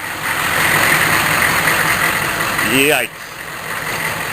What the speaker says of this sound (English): now I wonder what that sputtering is. Probably a bad exhaust manifold gasket.